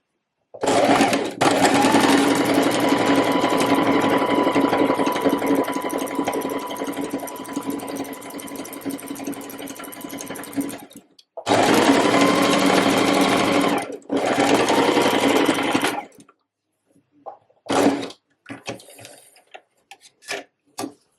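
A sewing machine runs a long steady stitching pass finishing a waistcoat armhole, then two shorter bursts after a brief stop, ending with a few faint clicks and handling noises.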